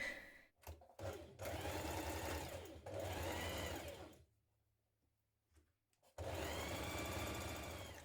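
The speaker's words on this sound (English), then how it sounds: "So we'll stitch this now, and also reinforce a little bit here as you go past the underarm point." A sewing machine runs close by, stitching a double seam on a t-shirt in long steady bursts, with a quiet low hum during a pause in the middle before it starts again.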